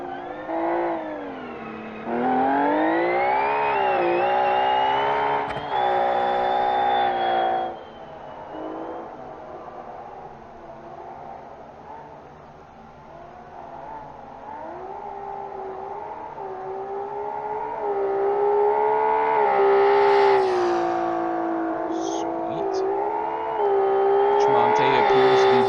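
Race cars at speed on the Sepang circuit, engines wailing loud and close as they rise and fall in pitch through gears, with a commentator talking over the racing.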